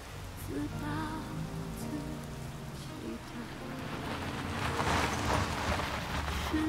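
Rain falls steadily outdoors in a drama scene, a broad wash of patter that grows heavier toward the end, mixed with faint music and background tones.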